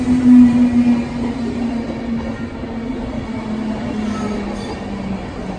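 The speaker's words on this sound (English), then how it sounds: "Just got into the train." Interior of a moving train travelling toward Zermatt, Switzerland: a steady, loud rumble of wheels on rails with a low sustained hum throughout, no voices.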